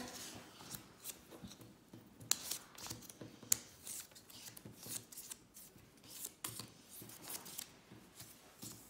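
Playing cards shuffled by hand during a children's letter-card game, giving a run of soft, irregular riffling and rubbing bursts with a couple of sharper snaps, fairly faint and close, with no talking.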